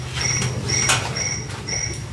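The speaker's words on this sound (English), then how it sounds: "Mighty big crickets here." Crickets chirping steadily in repeated short pulses over a constant low hum, continuous and moderately loud, with no voices.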